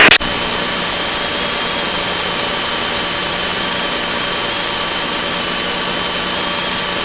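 Aircraft engine of N26XY at full throttle during formation flying, a loud, steady droning roar heard from inside the cockpit, unbroken after a brief click at the start.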